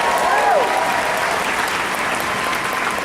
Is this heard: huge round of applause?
yes